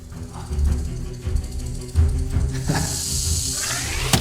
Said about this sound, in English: death scene of Dennis Nedry in Jurassic Park, complete with the rattling sound and the face spitting